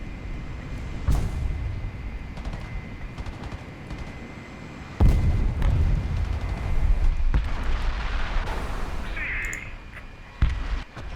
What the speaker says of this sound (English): I sent a missile myself